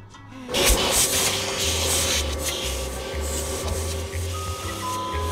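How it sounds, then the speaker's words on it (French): A cartoon vacuum cleaner runs in a steady, close whirring drone over a pulsing low hum, continuous for the whole stretch with no voices. "J'ai cru entendre un bruit d'aspirateur"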